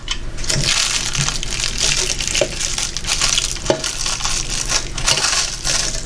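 Scissors cut through cellophane wrap coated with a wet layer of Elmer's clear glue, giving a close, continuous crinkling crackle with a few sharper snips and no talking.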